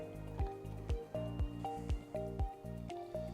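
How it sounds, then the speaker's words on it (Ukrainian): Room-temperature water is poured over ice for cold brew coffee, with close, quiet liquid pours and drips landing in a regular rhythm of soft squishy splashes. "Зверху додаємо по 50 мл води кімнатної температури."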